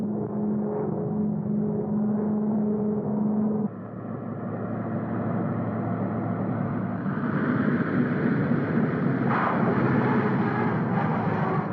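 A 1952-era airliner comes in to land at San Francisco airport, a loud continuous engine roar with a low steady drone that shifts and grows brighter and harsher partway through, with no talk.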